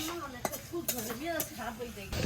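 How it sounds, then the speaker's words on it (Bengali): Noodles are stirred in a pot in a village kitchen, with soft scrapes and light clinks of a utensil under close, casual talk. "নুডলস নাড়তে আছো"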